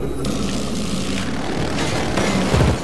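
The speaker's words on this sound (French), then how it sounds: "Il est où mon drone?" A drone in a video game flies with a continuous buzzing propeller drone, loud and close, holding steady with slight swells and a brief thump near the end.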